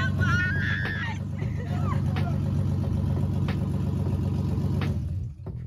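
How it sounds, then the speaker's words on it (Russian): A scrap-yard Nissan engine from a cheap drift car starts and settles into a steady mid-pitched idle that runs throughout, with excited voices and shouts over it. "первый запуск мотора с помойки"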